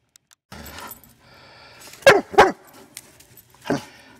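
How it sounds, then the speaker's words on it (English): A dog barks at a new toy indoors, two sharp close barks in quick succession followed by a third, with faint rustling and a soft voice before them. "What is he barking at?"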